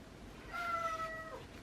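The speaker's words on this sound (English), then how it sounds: "That's one of my cats." A house cat gives a single short, soft meow indoors, quiet and close, over faint room hiss.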